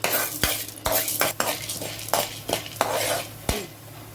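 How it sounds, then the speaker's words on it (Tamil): Chana dal roasting in sesame oil as a spoon stirs it in a pan, sharp metallic scrapes and clinks at an irregular pace over a soft sizzle, close by with no talking. "இந்த கடலைப்பருப்பு வதக்கி எடுத்துறேன், வறுத்து."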